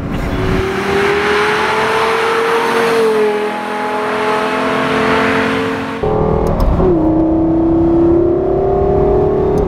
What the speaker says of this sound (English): that sound is coming out of a Lexus.